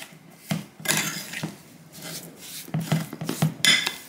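Biscuit dough is worked together with butter in a bowl: quiet scraping and rubbing strokes of a utensil against the bowl, irregular and close, with soft clinks.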